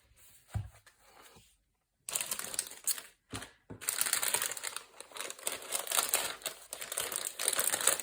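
Crinkling and rustling of paper sheets being handled, starting with a few soft touches, then a pause, then sustained close crackling shuffles.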